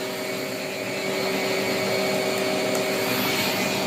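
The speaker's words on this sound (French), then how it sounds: "Là, je vais aspirer un peu avec." A vacuum cleaner with a roller brush suctions in a continuous loud, close roar with a steady hum, alone with no talking.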